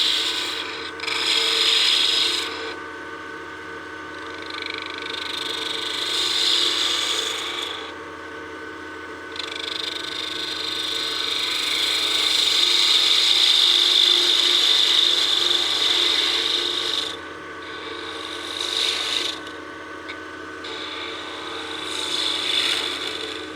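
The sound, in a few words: spindle gouge cutting wood on a lathe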